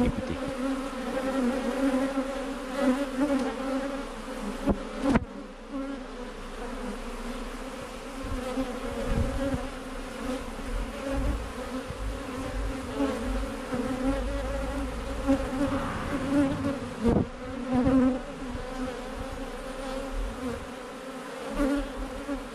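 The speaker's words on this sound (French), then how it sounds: "Le chant des abeilles." Dense, steady buzzing of a honey bee swarm on Réunion Island in March, many insects droning together close by, continuous for the whole stretch with no talking.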